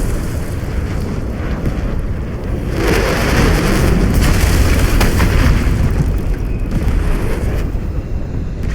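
Artillery strike explosions in the video game Arknights Endfield, a sustained rumbling barrage of heavy booms that swells louder from about three seconds in, with no talk over it.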